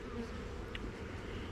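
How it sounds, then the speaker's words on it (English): Honey bees buzz steadily around a hive while foragers bring in pollen, a continuous low drone filling the air with no talking. "Yeah, they're bringing in pollen pretty decent. I mean, not every bee, but it's still pretty decent."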